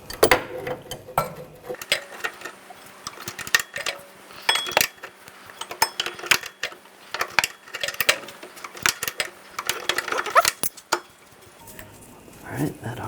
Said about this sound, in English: Loosen that nut and bolt.